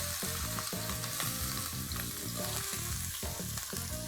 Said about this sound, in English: Once the oil heats up, I'll add in the ginger, garlic and chilies.